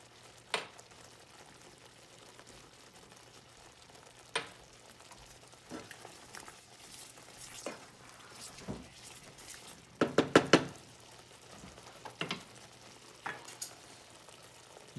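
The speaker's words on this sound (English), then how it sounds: "Give that a stir." Chicken fries quietly in a pan, giving a soft continuous sizzle broken by scattered scraping knocks as it is stirred, with a louder cluster of clatters midway through.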